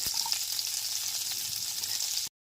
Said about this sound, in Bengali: সমস্ত সবজিগুলোকে এবার দিয়ে দিচ্ছি ফুলকপিটা আগে দিয়ে দিলাম গাজর কুচিগুলো দিয়ে দিচ্ছি